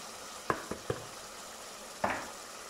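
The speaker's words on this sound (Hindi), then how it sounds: "अब मैं इसमें डालूँगी मटर और आलू इकट्ठे डाल के फिर से भूनेंगे।" Peas and potato pieces tipped into a pan of frying mince, giving a few quick clatters and scrapes around a faint sizzle, then one louder stir near the end.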